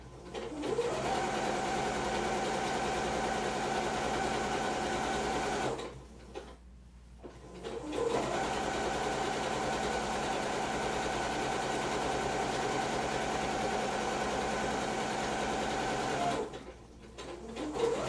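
A sewing machine runs steadily stitching a seam on a drawstring bag, a loud continuous whir in two long bursts with a brief pause between them for a change of direction, then another short stop near the end.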